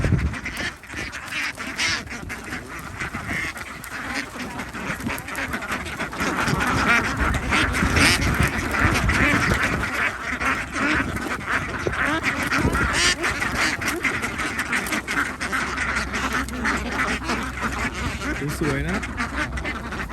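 A flock of ducks being caught and crated for shipment quacks and honks continuously at close range, a dense, noisy chorus that runs throughout, with someone talking over the birds.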